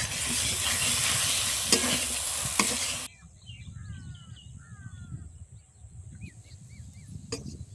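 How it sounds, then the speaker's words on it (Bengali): Cumin and coriander paste frying in a pan for a hilsa fish curry with bottle gourd gives a loud, close, hissing sizzle for about three seconds, then stops abruptly, leaving birds chirping and crows cawing outdoors. "জিরে বাটা, ধনে বাটা, মশলার কাঁচা গন্ধটা কেটে যাওয়া পর্যন্ত এটাকে কষতে থাকবো।"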